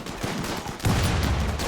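Gunfire in a video game battle comes as dense, overlapping bursts of shots and volleys, growing heavier partway through and continuing without talk.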